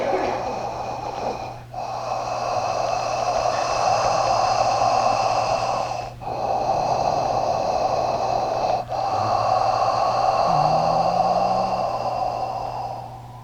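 Strong, audible open-mouth throat breathing in the style of Darth Vader, a steady breathy rush with a few short pauses between long breaths, continuous and close over a low steady hum.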